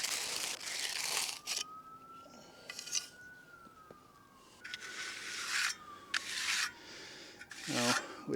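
A steel trowel rubs and rasps across a fresh concrete sidewalk in repeated scraping strokes, close by, with a siren wailing in the distance.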